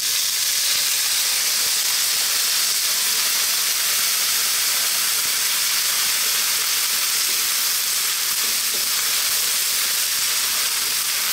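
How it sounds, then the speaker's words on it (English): A loud, continuous hiss of steam and sizzling as water hits a hot pan of broccoli, steady and unbroken throughout with no voices. "that's just really going to steam out and help that broccoli just a little bit more."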